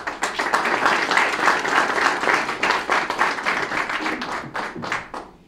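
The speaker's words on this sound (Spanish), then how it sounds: "Recibamos con un fuerte aplauso a Carmen Aristegui" University audience applauding to welcome journalist Carmen Aristegui, dense rhythmic clapping that holds steady and then tapers off toward the end.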